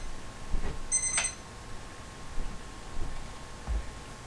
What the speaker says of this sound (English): Gotta remember to turn off that alarm.